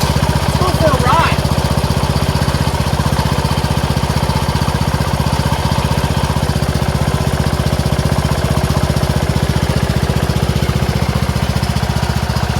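A Troy-Bilt Pony lawn tractor engine runs steadily while being driven, a loud, close, rapid mechanical chug that holds constant throughout, with a voice speaking over it briefly.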